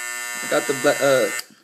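An Andis electric hair trimmer running close by with a steady buzzing hum, cutting off abruptly near the end, while someone talks over it.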